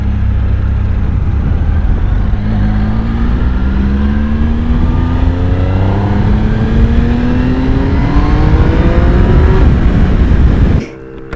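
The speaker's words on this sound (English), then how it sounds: "These are big exhausts. As I mentioned, they don't sound too bad. Pretty good actually for stock exhausts." A 2016 Triumph Speed Triple S motorcycle on stock exhausts, set to sport mode, revs loudly and close by, its engine note climbing steadily through one long rev before cutting off abruptly.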